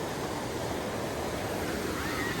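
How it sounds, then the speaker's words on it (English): Rushing mountain creek, Horse Thief Creek in the Purcell Mountains of Canada, flowing through a steep canyon near a bridge and waterfall: a steady, dense wash of water noise, close and continuous, with no voices. "This is the Horse Thief Creek over here."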